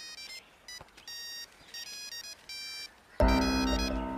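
A mobile phone ringtone plays a repeating electronic melody of short beeping notes, then swells louder and fuller as a brighter tune kicks in.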